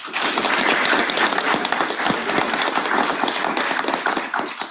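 An audience claps continuously at a guide dog graduation ceremony, dense, steady applause filling the room from start to finish.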